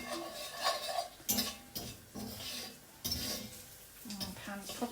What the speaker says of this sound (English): Just stir that around and it should melt very nicely.